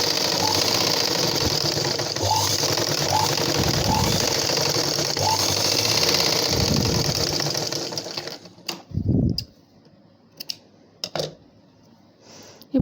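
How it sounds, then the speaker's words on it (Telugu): A sewing machine stitches blouse darts in a long continuous run with a rapid mechanical chatter and motor whir, then stops, leaving a few short clicks and soft handling noises near the end. "ఇప్పుడు ఈ విధంగా 2 times స్టిచ్ చేసుకోవాలి షేప్ జాయింట్ చేసాక"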